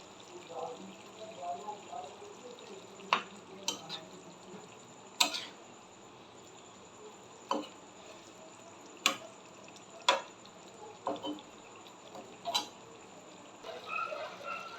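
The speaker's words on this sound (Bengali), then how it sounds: "জলটা বেশ সুন্দর ফুটে উঠেছে। ডিমগুলোকে দিয়ে দিচ্ছি আমি।" Eggs go into a curry gravy at a rolling boil, giving a low simmering bubble marked by sharp clinks and knocks at irregular intervals, with a voice talking faintly in the background.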